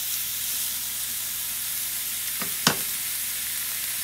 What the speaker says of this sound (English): I'm going to take my chuck and I'm going to sear it